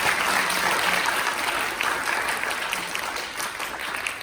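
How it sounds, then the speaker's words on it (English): Sustained audience applause fills a hall after speeches at a finale event, a dense, steady patter of many hands clapping that slowly eases off, with no talking. "So, warm round of applause for yourselves."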